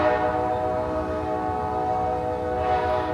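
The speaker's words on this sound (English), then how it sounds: "there's the train coming into the other platform" A train arrives at the opposite platform of a station, passing nearby with a sustained, multi-tone horn sounding over the low rumble of moving rail cars.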